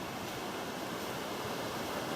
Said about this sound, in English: the roar of the water is getting closer and closer